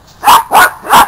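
Three loud, close barks from a dog come in an even rhythm about a third of a second apart, sharp and clear with no talking over them.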